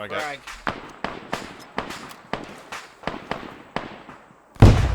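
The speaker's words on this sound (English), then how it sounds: "Grenades going in." A frag grenade explosion in a combat video game: a run of sharp, evenly spaced bangs fading slightly, then one loud, heavy blast near the end.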